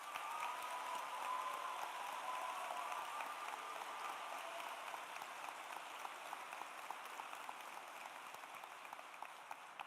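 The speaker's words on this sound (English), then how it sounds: "Please join me in a round of applause for our enlisted members." A crowd at a live local ceremony honoring enlisted military members applauds steadily, a faint, dense, even wash of clapping with no voices over it.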